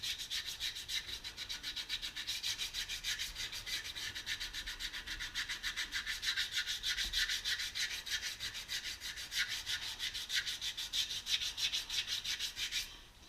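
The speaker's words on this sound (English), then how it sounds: "So I'll just sand this by hand." Sandpaper rubbed by hand along the edges of a rear brake pad to cure squealing, a close, dry scratching made of rapid, even back-and-forth strokes that keep a steady rhythm throughout.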